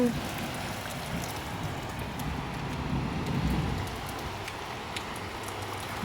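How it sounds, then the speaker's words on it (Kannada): Steady heavy rain pours down, a dense continuous hiss with low rumbling wash, swelling slightly in the middle. "ಫುಲ್ಲು ಜೋರು ಮಳೆ ಬರ್ತಾ ಇದೆ ಇವತ್ತು"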